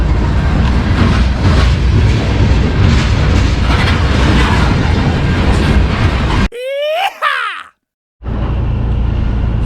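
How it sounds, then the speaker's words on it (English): A train rolls past close by on a rail crossing near a ferry landing, a dense, loud rumble and rattle of cars that drops out briefly partway through before the steady roar resumes. "we gotta wait for the train to go by"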